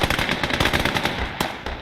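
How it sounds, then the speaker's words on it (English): Rapid gunfire and sharp explosive bursts in a World War One battle from a Gates of Hell Ostfront mod with French forces, as grenades are thrown; dense, loud, continuous crackle of shots and blasts with no talk. "Chuck the grenades. Do it, lads."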